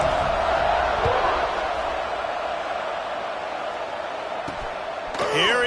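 A college football stadium crowd roars in a dense, steady wash of cheering and chatter just before a kickoff following a score, loud throughout with a brief sharper burst near the end.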